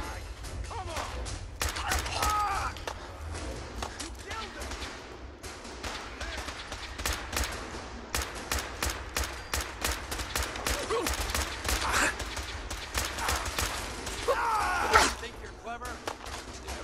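Rapid bursts of gunfire and a grenade blast in a Fallout 4 gun fight, with dense, loud volleys of shots crackling continuously throughout.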